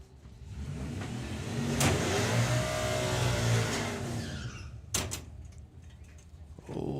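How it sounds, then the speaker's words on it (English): Drag racing cars at a national event launching off the line, a loud engine roar swelling and fading over a few seconds with a brief high tyre squeal, followed by sharp knocks and quieter background noise. "hear the tyres protesting there"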